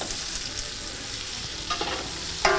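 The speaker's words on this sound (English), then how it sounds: "then we're going in with our sausage, and we're gonna get it good and brown" Sausage browns in a pot over a campfire, a steady close sizzle and crackle with a few faint scrapes of stirring.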